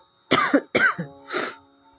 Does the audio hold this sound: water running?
no